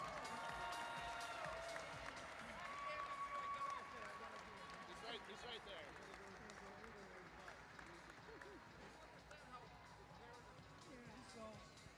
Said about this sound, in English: Round of applause for the juniors.